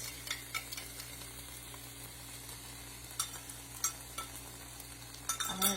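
Eggs with capers are stirred over low heat in a pan for Mediterranean scrambled eggs, with a faint, quiet sizzle and occasional soft clicks and scrapes of the utensil.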